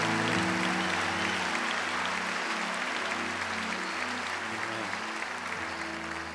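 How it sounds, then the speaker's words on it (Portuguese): Loud, sustained applause from a large church congregation fills the whole stretch, with a steady low musical tone humming underneath. "Dê para Jesus uma forte salva de palmas."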